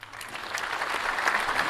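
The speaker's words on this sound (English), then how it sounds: "I got the same applause." An audience applauds a university founder as he is brought onstage for an education interview, the clapping swelling from light scattered claps into steady, full applause with no speech.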